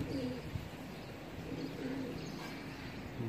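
Pigeons kept for kabootar bazi pigeon flying coo softly and continuously, with a low, repeated throaty rhythm at moderate distance. No voices are heard.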